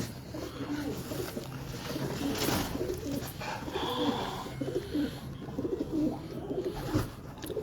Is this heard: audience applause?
no